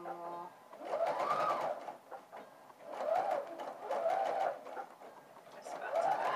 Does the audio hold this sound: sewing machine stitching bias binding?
yes